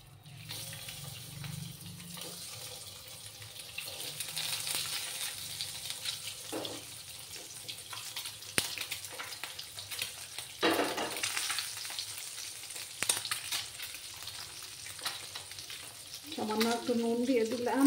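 Eggs fry one by one in hot oil with a pinch of turmeric over a low gas flame, giving a steady, soft sizzle with occasional clinks and stirring sounds, and a brief voice near the end.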